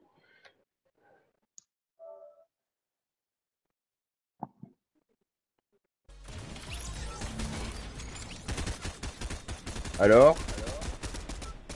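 Gunfire from a player in Fortnite on PS4, starting abruptly after near silence with a few faint clicks, then a steady loud stream of rapid shots while a voice speaks briefly.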